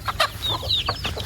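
A chicken clucks nearby in a few short, quick bursts, the calls bright and close against a quiet outdoor background.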